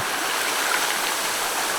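Sea water laps and washes near the shore at high tide, close by, in a steady broadband hiss with no distinct wave breaks and no voices.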